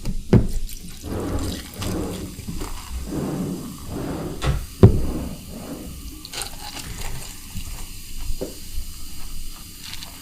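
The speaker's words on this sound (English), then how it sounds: "let's go ahead and give it a nice pour and see how it pours" A drink is poured into a glass during a product pitch: an irregular liquid splash and gurgle in uneven bursts, close and moderately loud, with a couple of sharp clinks along the way and no talk.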